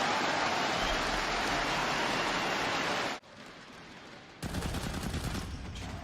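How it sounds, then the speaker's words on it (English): Submachine gun fire in Counter-Strike at a professional esports match, a dense sustained rattle of shots that stops abruptly, then another burst resumes after a short pause. "Say hello to the Godfather's little friend as the SMG shuts down everyone, Zeus included."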